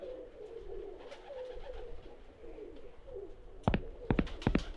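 Pigeons cooing in the video game Randal's Monday, soft repeated low coos through a quiet background, ending in a few louder sharp wing or click sounds nearby.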